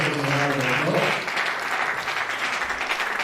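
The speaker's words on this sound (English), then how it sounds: "we all give you a round of applause" Applause from an audience at a housing cooperative meeting, a steady wash of clapping from many hands that holds for a few seconds, with a voice briefly heard at the start.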